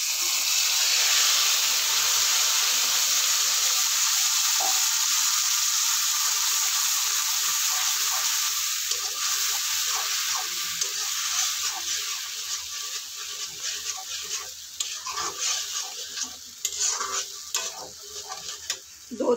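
Hot oil sizzles loudly as a spice mixture with nigella seeds hits the pan, then settles into a quieter crackle while a spoon stirs and scrapes through the pan.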